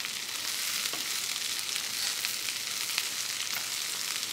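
Onion fries in hot oil for a Nagpur-style Saoji chicken curry, making a close, steady crackling sizzle with faint stirring taps and no voices.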